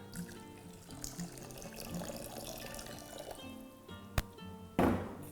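Water poured into a pan while cooking corn Manchurian gravy, a soft steady trickle under faint kitchen clatter, ending in a sharp clink and a louder splashing gush.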